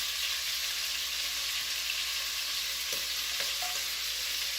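Pieces of beef searing in a hot pan for beef bourguignon, a dense, continuous loud sizzle with faint clicks of turning underneath.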